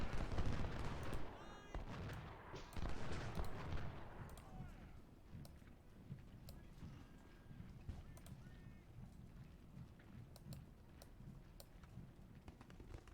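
In Ultimate General Civil War, 10-pounder cannons fire in a rapid cluster of booms, with scattered musket cracks around them. The bursts fade into sparse distant shots and ambient battlefield noise.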